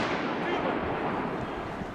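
Firecracker bangs during daytime Fallas in Valencia, a dense continuous crackle and rumble of blasts under distant voices, loud and sustained.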